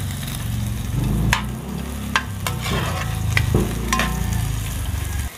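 Chopped garlic and onion sizzling in hot oil in a pan as the base for chicken sinigang, a steady close frying hiss with occasional sharp stirring scrapes and clinks, no talking.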